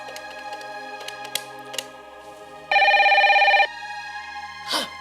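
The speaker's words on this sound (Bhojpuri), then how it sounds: "हाँ, घंटी बजिल" A landline telephone gives one loud, buzzing ring burst lasting about a second in an otherwise quiet room, with faint background sounds around it.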